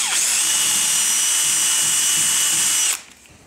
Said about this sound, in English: get our small wood bit, place it on our pencil mark and just drill this out